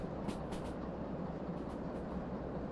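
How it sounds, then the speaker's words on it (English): Train brakes in the railway simulator game Derail Valley release a few short airy hisses over a constant low rumble of rolling rail cars, moderately quiet and with no talking. "That's the train brake, so that I'm sure is the brake."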